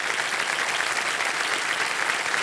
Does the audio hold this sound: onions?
no